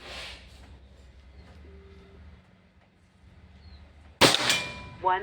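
Bocap Pajero Gun Gen 6 air rifle firing two sharp, loud shots close by near the end, following a stretch of quiet low room hum.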